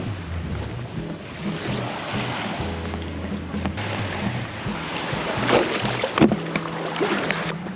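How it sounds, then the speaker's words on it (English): Dinghy dragged and dropped into the water at an anchorage off Avila Beach, California, with scraping, thumps and splashing over steady wind and water noise, close by. "My launching of the dinghy has 2 steps"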